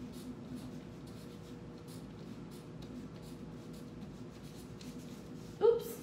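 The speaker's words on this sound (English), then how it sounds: "So let me write that down." Marker or chalk scratching on a board in a classroom. Faint, irregular scribbling strokes over a quiet room, with a short louder knock near the end.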